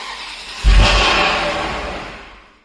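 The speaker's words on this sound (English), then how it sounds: "Time to start the Ferrari for the first time in 2 years." A Ferrari engine catches on its first start in two years after ignition coil work, a sudden low rumbling burst that flares and then fades away over a couple of seconds, with no talk.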